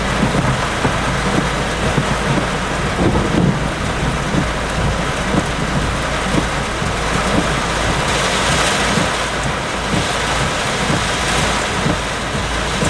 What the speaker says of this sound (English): Gusty winds coming from behind me.